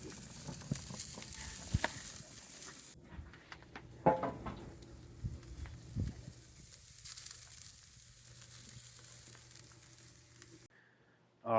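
Steak searing over a charcoal grill in freezing cold weather, a faint crackling sizzle with scattered pops and a few knocks, fairly quiet and close, cutting out near the end.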